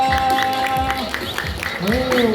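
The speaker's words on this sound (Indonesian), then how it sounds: "Boleh tepuk tangan yang meriah buat Faya." Children at a class outing to Jatim Park 2 clap together in a brief, lively round of applause mixed with cheerful voices, bright and close.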